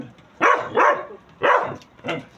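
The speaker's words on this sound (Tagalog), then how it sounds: "Ang gaganda ng aso ko" Four loud barks in quick succession, a dog close by, with short gaps between each.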